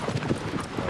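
Horse hooves clip-clop in steady rhythm as a horse is ridden in the video game Shadow of the Colossus, close and fairly loud with a light game ambience behind.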